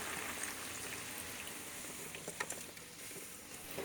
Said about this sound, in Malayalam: ഒന്നാം പാലെടുത്ത് വെച്ചിട്ടുണ്ടല്ലോ അതുകൂടെ ഒഴിച്ചു കൊടുക്കും